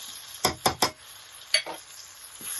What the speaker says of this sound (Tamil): இந்த வெங்காயத்தை போட்டு கிண்டோம் சரியா இது கொஞ்சம் பொறிஞ்சு வர